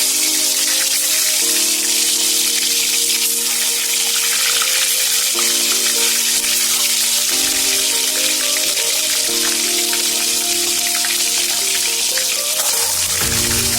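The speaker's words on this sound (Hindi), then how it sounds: "तेल गरम हो गया, अब हम एक एक अंडा इसमें डाल देंगे।" Eggs frying one by one in hot oil for an egg curry, a steady loud sizzle and crackle that runs the whole time alongside background music, with no talk.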